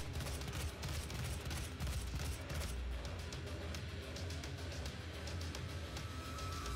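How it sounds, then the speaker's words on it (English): Dense, continuous gunfire fills the Doom SnapMap horror map Meat Grinder, a steady rattling barrage with crashing impacts, moderately loud and unbroken throughout. "I think he was already shooting"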